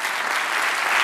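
A church congregation bursts into applause during a Spanish-language sermon, a dense, loud burst of clapping from many people filling the whole moment.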